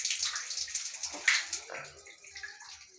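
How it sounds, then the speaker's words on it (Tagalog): A shower head sprays water in a hissing rush, fluctuating in strength, splashing, with faint background voices and a low rhythmic thump underneath. "Dito naman po tayo sa may head shower."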